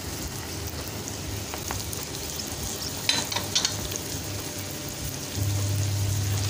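Tomato sauce with sausage and peppers sizzles in a pan as it is stirred, a continuous close crackling with a few scraping spoon clatters midway and a low hum that rises toward the end.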